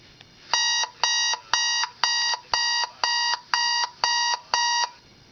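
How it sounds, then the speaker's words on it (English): An old 1990-era alarm clock rings in nine evenly spaced electronic beeping bursts, each about a third of a second long with short gaps, loud, clear and alone against a quiet room. "And an alarm from 1990."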